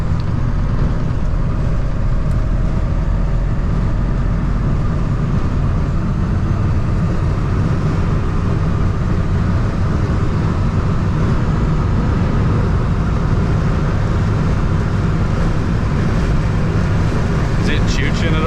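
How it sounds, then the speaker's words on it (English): A truck engine drones loudly and steadily at full throttle on a highway drive, a dense continuous low roar with road and wind noise and no clear break. "full throttle."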